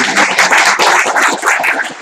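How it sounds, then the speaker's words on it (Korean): Short, close burst of clapping from a small group at the end of a breakfast meeting, uneven bunched claps swelling and dipping over a couple of seconds. "다시 한번 축하로 박수로 축하의 말씀 감사합니다."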